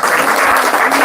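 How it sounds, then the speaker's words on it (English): A roomful of listeners at a spiritual talk on japa chanting claps loudly, a brief, close, dense burst of applause filling the space without pause. "Let's give a big round of applause."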